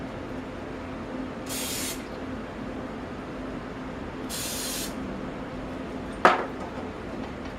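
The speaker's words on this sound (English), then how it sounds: "spray them a little bit with this just to brown them." Two short hissing bursts of cooking oil spray onto food, followed by a sharp clink of a pan or utensil, in a quiet kitchen.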